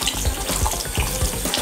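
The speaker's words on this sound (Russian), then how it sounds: "смачивай ручки водой." A tap runs water over a child's hands at a sink, a steady close splashing stream broken by small irregular spatters as the hands move under it.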